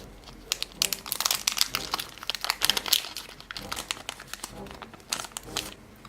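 Crinkly plastic wrapper of a Pokémon booster pack is torn open and handled up close, a dense run of sharp crackles and crumples with brief pauses.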